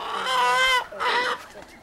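Delaware chickens cluck and squawk at feeding time, two loud, close bursts of warbling calls with a short gap between them.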